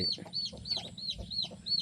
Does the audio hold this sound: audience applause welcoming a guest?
no